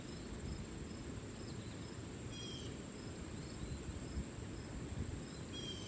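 Crickets chirp steadily in an outdoor forest setting, a dense high-pitched trill running continuously throughout, with faint occasional bird calls and a low rustle of wind and leaves underneath.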